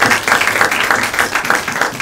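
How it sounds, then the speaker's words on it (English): A law school lecture audience applauds before a guest speaker is introduced, with loud, dense clapping heard close and continuous throughout. "let's give you, in fact, a round of applause"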